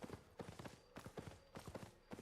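A horse's hooves clip-clop in a fantasy video game, a fast galloping rhythm of hoof strikes in repeated groups of beats, steady and fairly close, with no talk over it.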